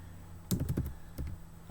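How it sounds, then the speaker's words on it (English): Computer keyboard typing, two quick clusters of close key taps separated by a short pause, over a quiet room. "So let me just type that in here."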